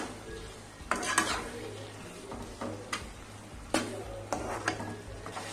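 Roasted cashews, peanuts, chana dal and urad dal being stirred into tamarind rice, soft scraping strokes and occasional clinks against the pan over a faint low hum.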